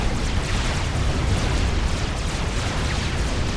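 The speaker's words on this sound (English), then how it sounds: "Very nice bomb there" A bomb from a Tech 1 bomber detonates in Supreme Commander: Forged Alliance, a loud, dense roaring blast that holds steady as a continuous rumble for several seconds.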